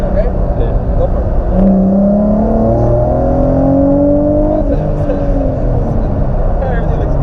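A Nissan G35 fitted with GTR injectors pulls hard in second gear, its engine droning and rising in pitch from inside the car while people talk over it.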